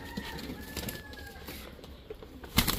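Giribaz high-flyer pigeons, including a red male, cooing nearby in soft, drawn-out calls, with some rustling and a sharp noise near the end; no talking.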